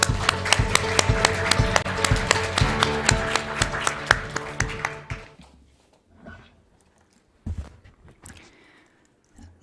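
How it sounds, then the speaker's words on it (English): Audience clapping greets a speaker walking onstage at a Seoul learning event on the HDP Nexus, with loud, dense applause and music-like tones for about five seconds, then fading to quiet with a few faint thumps and brief sounds. "Please welcome her to the stage with thunderous applause"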